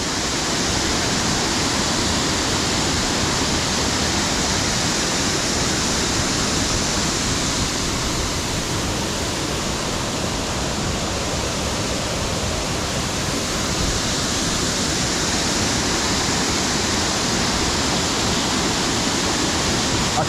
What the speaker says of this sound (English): I can see why people like to come and see this waterfall.